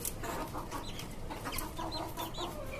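Desi and tiger breed chickens clucking in a rooftop cage, several birds making overlapping close clucks and short calls over a steady background, with no talk.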